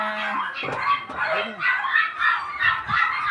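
Several dogs bark and yip in quick overlapping bursts, fairly close, with a few whiny yelps mixed in.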